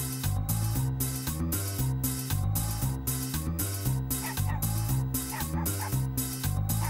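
A cartoon dog yips and barks while hunting for a lost ball on a beach, the barks mixed into loud, steady rhythmic children's music with a regular beat.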